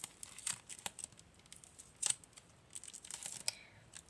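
Plastic packaging holding a Miku figure crinkled and torn open, faint close rustles and a few sharp crackles in short bursts against a quiet background.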